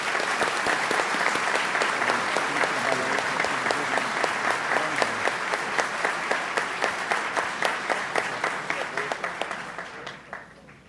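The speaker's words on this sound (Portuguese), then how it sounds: "o desembargador José Cruz Macedo, a quem peço uma salva de palmas." Sustained crowd applause at the swearing-in ceremony of officials of the Federal District and Territories Court of Justice, dense and steady for about ten seconds before thinning and fading out at the end.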